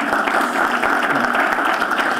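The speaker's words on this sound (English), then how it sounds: "Can we have a round of applause," A conference audience at PG Connects Bangalore 2015 claps for a speaker, with dense, steady applause filling the room at even loudness and no voices over it.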